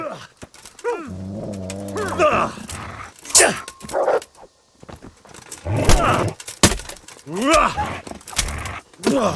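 A dog barks in the medieval village of Kingdom Come: Deliverance: several close barks and yelps scatter through the scene, mixed with other animal and ambient sounds and brief talking.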